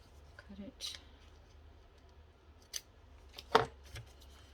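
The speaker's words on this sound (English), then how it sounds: "Just bend that back and cut it." Scissors snipping through vellum paper, a few short crisp cuts close by and fairly quiet, spaced irregularly against a low background hum.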